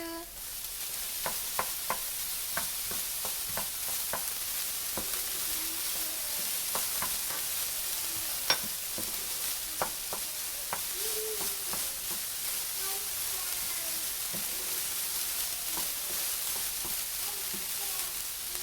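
Tofu and jicama frying and being stirred in a pan, a steady bright sizzle running throughout with scattered clicks and scrapes of the utensil, close and alone without speech.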